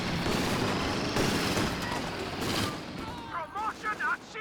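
Machine gun fire in the strategy game Company of Heroes: dense, continuous rattling bursts with distant booms, fairly loud, then a few short clipped bursts near the end, with a voice partly underneath.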